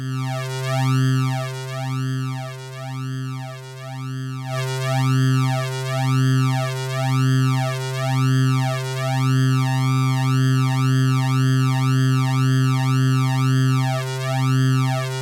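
Reason synth trancegate with its shaper set to rectify: a steady sustained tone pulsing in rapid rhythmic gated swells, with sweeping chirp-like harmonics rising and falling continuously, loud and alone with no talking.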